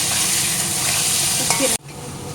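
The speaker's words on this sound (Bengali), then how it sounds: "এদিকে আলু ভাজা হয়ে গিয়েছে" Potatoes sizzle loudly and steadily in a hot pan, a brief stir clattering near the end before the sound cuts off abruptly.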